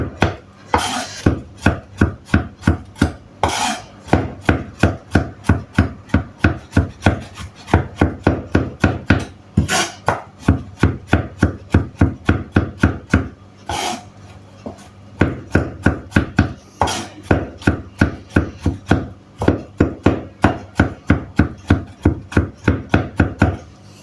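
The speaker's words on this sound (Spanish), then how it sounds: "Y ahí le damos con el cuchillo hasta que no quede bien picado." A knife chops cooked beans on a board, a fast, steady run of close, sharp taps in bursts with brief pauses between them, loud and alone with no talk.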